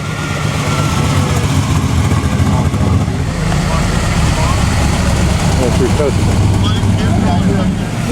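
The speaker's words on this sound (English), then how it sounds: "A racing 275 GTB Ferrari." A racing Ferrari 275 GTB at the Pebble Beach Concours on the lawn, its engine giving a steady, loud, low throbbing rumble that carries throughout, with crowd chatter and outdoor bustle around it.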